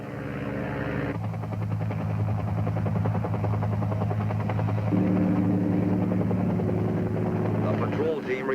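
Bell UH-1 Huey helicopter launching for a pickup, its rotor and turbine building into a steady, loud droning whine with pulsing blade chop that holds throughout, with narration running over it.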